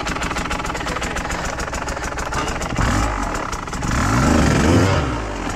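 An enduro motorcycle engine runs loud and close on a training creek trail, with a steady rapid idle that rises into heavier revving bursts near the end.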